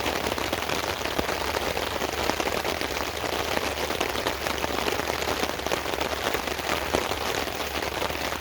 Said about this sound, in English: It's been raining for a good half hour now.